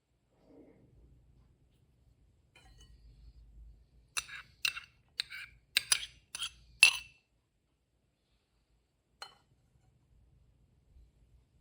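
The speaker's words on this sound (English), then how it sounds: "Mix everything thoroughly until it's well combined." A utensil clinks against a bowl while mixing a wonton filling of minced garlic, ginger and green onion. A quick burst of sharp, close clinks comes after faint handling noise, then it falls quiet.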